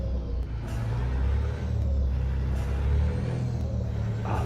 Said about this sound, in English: Oh, I forgot how good this truck sounds.